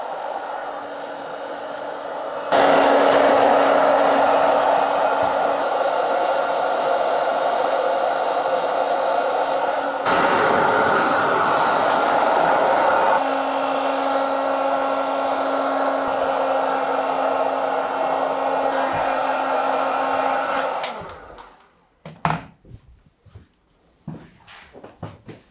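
A hair dryer roars loudly and steadily while blow-drying long hair, its pitch shifting as the speed changes, then cuts off, leaving brief handling knocks.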